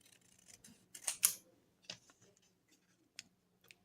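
Scissors cut out a paper bookmark design, giving a few sharp close snips and crisp slicing strokes separated by quiet gaps.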